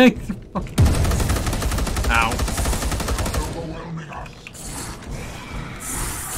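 Bolter fire in the Space Hulk video game, a dense stream of rapid mechanical gunshots with clanking action, loud and continuous under a busy game soundscape.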